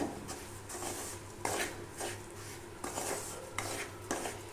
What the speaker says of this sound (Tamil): இதை நல்லா வறுத்து விட்டுறலாம் இந்த நெய்யிலே வந்து நல்லா ரவை வறுபடணுங்க